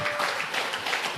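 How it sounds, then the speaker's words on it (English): Awards-ceremony crowd at The Crossing for Cystic Fibrosis applauding together, a dense, steady wash of clapping filling the whole short moment with no voices over it. "Give yourself a round of applause."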